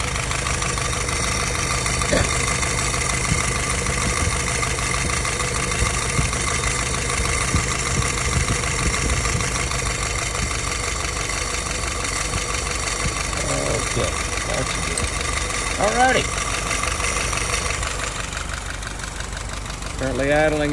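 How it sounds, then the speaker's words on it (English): A YS 950S model engine idles steadily at about 720 rpm with a continuous mechanical hum and knock; someone speaks briefly over it near the end. "Currently idling at about 720."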